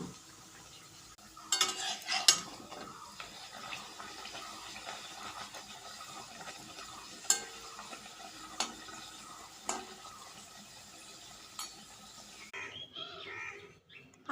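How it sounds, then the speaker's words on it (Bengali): Paratha frying in a pan for breakfast, a soft steady sizzle with scattered clinks and scraping from turning it, some louder knocks near the start, ending in a brief quieter stretch. "পরোটা ভেজে নিচ্ছি।"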